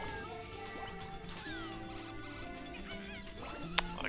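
A cartoonish cat in the video game Katamari Damacy meows in a few short, pitch-bending cries over busy game music and effects, with a sharp click near the end.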